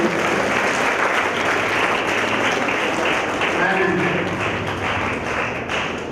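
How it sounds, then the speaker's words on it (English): A hall audience applauds competition participants at a moot court valediction, with dense, sustained clapping that holds steady for several seconds. "let us give a very big applause to the participants of this"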